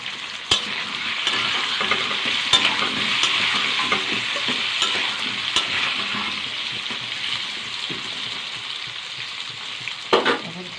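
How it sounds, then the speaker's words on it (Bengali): Potatoes frying in oil with turmeric powder and a little salt: a steady, bright sizzle that runs throughout, broken by a few sharp clicks and spatters and a brief louder stirring scrape near the end. "অল্প নুন দিয়ে দেবো আলুটা ভাজা করার জন্য।"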